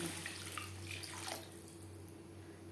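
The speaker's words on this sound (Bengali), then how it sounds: "মশলা বেশ ভালো করে কষানো হয়ে গেছে এই পর্যায়ে দিয়ে দেব জল" Water is poured into a pan of well-fried masala for a katla fish belly curry, a brief soft splashing gush that fades after about a second and a half, quiet and close with no talk.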